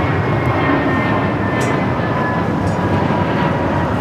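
An American Airlines A321neo jet at LAX gives off a steady, broad roar with a faint high whine, moderately distant and constant throughout, with no talking.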